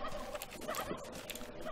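Turkeys gobbling in the video game How to Survive 2, a rapid cluster of overlapping warbling gobbles, close and fairly loud, with no talk.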